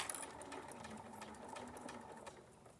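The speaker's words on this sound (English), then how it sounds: "just take out a clip at a time and just sew it round" A sewing machine stitches fabric for a scrappy teddy-bear craft, its needle chattering in quick rapid bursts at close range, moderately quiet and alone.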